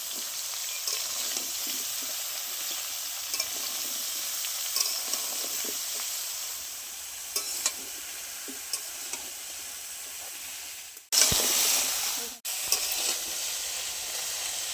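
Ridge gourd fries in a pan without salt, a steady loud sizzle running under repeated spoon scrapes and stirring. Near the end a sharp, louder burst of hissing rises briefly before settling back.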